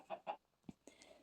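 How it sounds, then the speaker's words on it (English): A chick in a block-building survival video game gives a few short, soft clucks and peeps in quick succession, faint and alone. "And, we do have our chicken."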